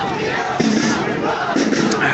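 Several hundred protesters at an anti-austerity march in downtown Montreal chant and shout together in a dense, continuous crowd roar close by.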